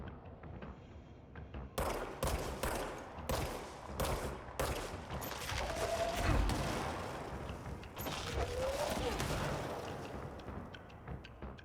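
Video game gunfire crackles in quick bursts of sharp shots, a rapid volley early on followed by denser, steadier firing that stays moderately loud against a busy background.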